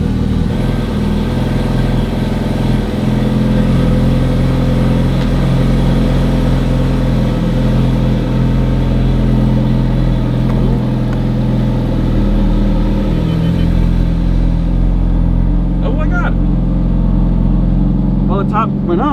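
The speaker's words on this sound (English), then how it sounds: "we got a bad exhaust rattle, but it's running" A Ferrari F430 engine runs steadily and loudly with a bad exhaust rattle, a continuous close mechanical drone that holds throughout, with a few brief clicks near the end.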